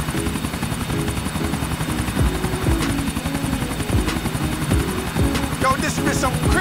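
Helicopter rotor in the video game GTA 4, a steady loud chopping drone throughout with low thumping pulses, mixed with game noise and faint voices.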